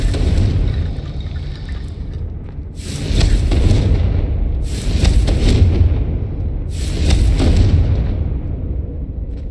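A Confringo fire spell from the video game Hogwarts Legacy detonates in three heavy, booming blasts spaced a couple of seconds apart. Each one is loud and close, with a rumbling tail, and no one talks.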